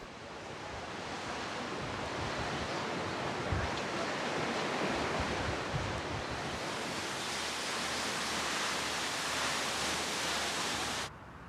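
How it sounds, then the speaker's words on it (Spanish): Waterfalls drop straight into the sea along South Korea's southwest coast, making a steady, loud, broadband roar of falling water and surf that continues without a break and cuts off abruptly at the end. "La costa suroeste está salpicada de magníficas cascadas que caen directamente al mar."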